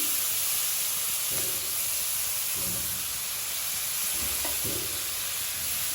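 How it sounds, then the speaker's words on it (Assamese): Lentils (dal) fry in a pan with a loud, steady sizzling hiss throughout, broken by a few soft scraping stirs. "এতিয়া দালিখিনি ভালকৈ অলপ ভাজি ল'ম।"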